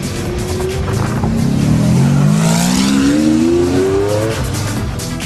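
Sports car fitted with a custom Capristo exhaust, revving loudly and close, engine pitch sweeping upward in a smooth rising howl with no voices.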